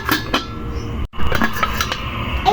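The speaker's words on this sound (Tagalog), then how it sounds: "Takpan muna natin mga kahabi para maluto yung ating dahon na nilagay alugbati." A metal lid clinks down onto a cooking pot of mung beans simmering with alugbati and other leafy greens, giving a couple of sharp kitchenware clanks amid soft pot and utensil noise.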